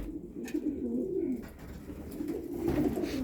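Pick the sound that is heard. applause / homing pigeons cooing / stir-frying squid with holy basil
homing pigeons cooing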